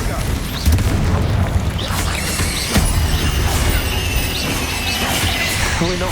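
Confringo explosion spell in the Hogwarts Legacy video game, repeated booming blasts and crashes amid dense combat effects, with a voice talking over the din.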